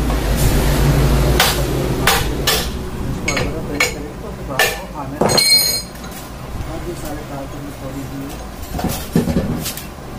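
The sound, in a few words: metal clinks removing three-phase alternator cover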